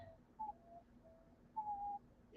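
A diamond dove calls in soft, flute-like coos, two short pure-toned notes separated by a pause, faint and gentle against a quiet room with a low hum.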